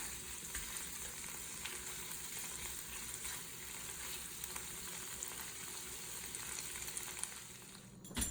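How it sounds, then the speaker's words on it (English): Tofu fries in a pan until golden brown, putting out a soft, continuous crackling sizzle that stays quiet and even throughout, with a brief clatter at the very end and no speech. "you need to make sure this is cooked, the tofu is cooked until golden brown"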